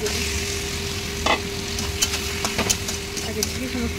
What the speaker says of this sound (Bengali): মাংসটা দিয়ে এবার কষাচ্ছি